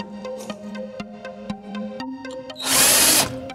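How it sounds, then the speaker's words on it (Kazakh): A cordless screwdriver drives screws into wood while building a modern shanyrak, a buzzing motor with rhythmic ratcheting clicks, then a louder harsh whir near the end, close up. "Мына шуруповер, қатыратын шуруповер, мына батарейкемен болғаны жөн."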